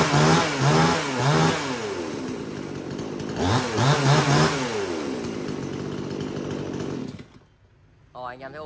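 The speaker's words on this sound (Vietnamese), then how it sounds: "Rồi, đấy là hai con máy cưa." Two gasoline chainsaws for sale run loudly in turns, revving up and down in repeated bursts, then cut off abruptly near the end before a brief restart sputter.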